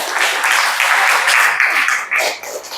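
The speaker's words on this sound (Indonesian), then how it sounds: "Ya, tepuk tangan untuk kelompok 3." A school class applauds a student group in a classroom, a loud, close burst of many hands clapping that stays steady for about two seconds and then tapers off into scattered claps.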